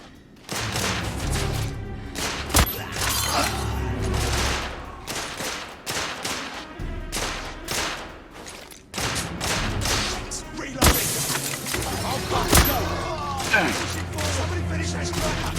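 Sniper shots and bursts of rifle fire in the Victorian-era shooter The Order: 1886, a loud chaotic firefight with sharp cracks and rattling volleys, voices calling out amid the shooting.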